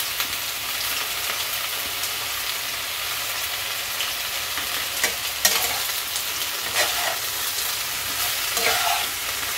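A dish seasoned with turmeric and salt fries in a little oil in a pan on low gas, a close, continuous sizzle broken by scraping stirs and occasional clicks, with no talking.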